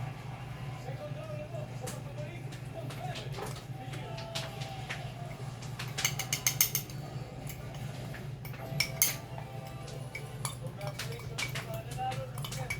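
Clinking of a utensil against a bowl or dish while mixing homemade fermented silver fish, with soft scrapes and a couple of louder clusters of clinks over a steady low hum, with some speech in the background.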